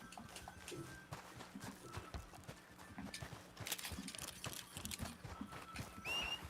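Horse hooves clop in a quick irregular rhythm across a video game landscape, with a brief whinny near the end, all at a faint, low level.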